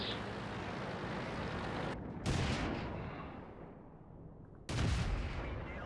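Two loud, booming tank cannon shots in a World War II tank combat video game, fired at a Churchill tank, each blast followed by a long fading rumble over a quiet background.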